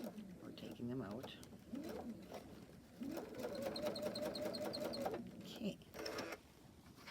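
A sewing machine runs a quick basting stitch along a quilt block beside the pins in a short steady burst of soft rapid ticking, with a voice speaking before it and briefly after it stops.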